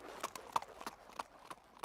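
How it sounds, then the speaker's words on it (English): A horse is ridden along at a steady walk, hooves clip-clopping in an even, faint rhythm of about six or seven sharp hollow knocks with no talking. "The young king rode his horse to the cathedral."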